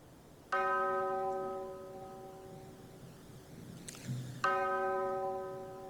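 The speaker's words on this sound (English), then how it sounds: "on a cold, gray February morning, the chapel bell began to toll." A single chapel bell tolls twice, each strike ringing out and slowly fading, with a faint low knock between the strokes.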